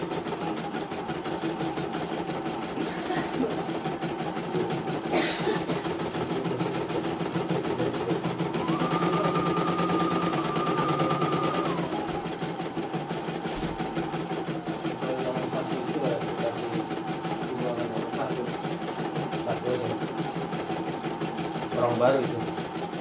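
A CNY E900 embroidery machine runs with a continuous rapid clattering hum, steady and close throughout, with a brief tonal whine in the middle and a voice now and then.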